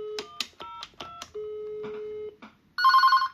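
Keypad tones dial an internal extension on a repaired PBX switchboard, followed by a sustained tone and then a loud, close electronic ring burst at the end, with no talking.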